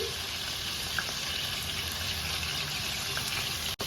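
Tomatoes sizzle and fry in a hot pan with a steady, close crackling hiss that holds evenly throughout.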